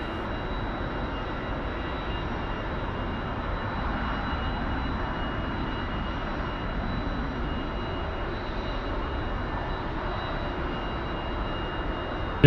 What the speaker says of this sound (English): I can see you taxiing way better now.